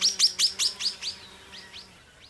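A bright emerald-green, red-faced nectar-feeding bird in a flowering gum near a river gives a quick series of sharp, rising chirps, about ten close notes that fade toward the end, heard alone and fairly near.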